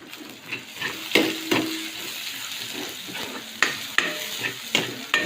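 Garlic and onion sauté in a pan until browning, with steady close sizzling and frying broken by repeated scraping stirs of a utensil; no voices.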